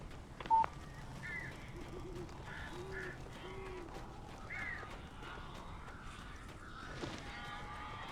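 Odd bird calls in Alan Wake Remastered, a series of faint short squawks and honking cries repeating at irregular intervals over a quiet ambient background, with a brief tone and a soft knock early on.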